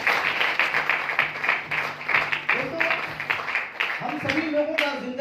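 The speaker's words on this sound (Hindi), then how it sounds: "तालियों के साथ में स्वागत करना चाहूंगा।" An indoor audience at a business motivational gathering claps together in a dense, continuous burst of applause. A few voices rise briefly over the clapping.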